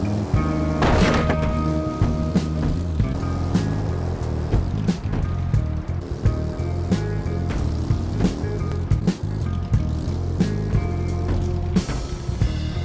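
Motorcycle ride in the game Ride to Hell: Retribution, a steady engine drone with loud bangs and thuds from hitting obstacles in the road, continuous and close, with faint game sounds underneath.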